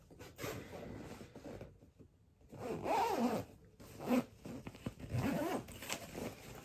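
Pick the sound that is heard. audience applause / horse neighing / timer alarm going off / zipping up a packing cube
zipping up a packing cube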